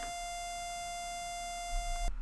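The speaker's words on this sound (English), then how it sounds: "More obnoxious beeping noises." Obnoxious electronic beeping from the glitchy Pokemon Vietnamese Crystal video game, a steady sustained high tone with buzzy harmonics running nearly two seconds before cutting off abruptly, followed by a brief low thump.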